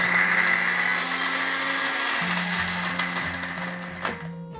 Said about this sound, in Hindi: और इसे मैं वापस से पीस लूँगी।